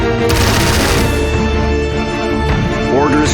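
Aircraft strafing with machine-gun fire in the strategy game Strategic Mind: Spectre of Communism, loud rapid bursts of gunfire over a droning engine and a tonal music bed, with brief sharp impacts toward the end.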